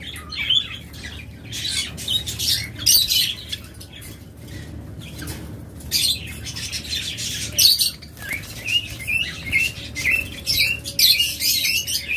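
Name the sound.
caged birds squawking at a bird seller's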